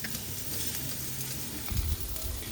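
Continuous crackling sizzle of chicken frying in hot oil, close and steady, with a low thump near the end.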